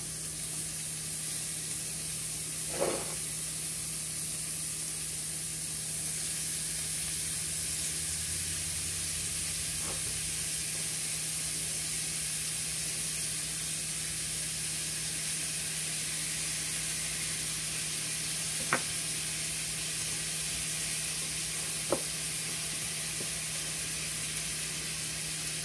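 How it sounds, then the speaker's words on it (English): Onions and hamburger meat sizzle steadily in a pan, a continuous broad hiss with a few faint clicks and pops, close and alone with no talking. "So let's get the onions in. Let's get some of this hamburger meat in so that the onions don't burn."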